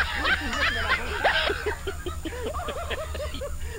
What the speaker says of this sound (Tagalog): Baka may andyan pa yung aso.